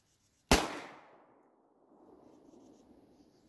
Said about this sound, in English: I think you just shot the lid off of one.